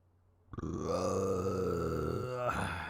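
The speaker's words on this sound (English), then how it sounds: "There's the burp." A single long, loud, low burp rumbling close to the microphone for about two seconds, with no talking over it.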